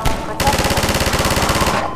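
Sustained rapid machine-gun fire from a mounted gun in the video game Half-Life 2, a loud continuous rattle of evenly spaced shots lasting nearly two seconds, alone without talk.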